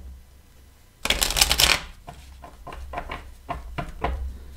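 Tarot cards riffle-shuffled up close in a loud burst, followed by a series of softer taps and flicks as two cards slip out and the deck is handled, with no talking.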